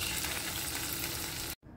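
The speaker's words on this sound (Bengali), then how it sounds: "আলুটা আগে ভেজে নিচ্ছি, এর জন্য" Potato pieces frying in a hot karahi for biryani give a steady, loud crackling sizzle close by, cut off abruptly near the end before a quieter hiss resumes.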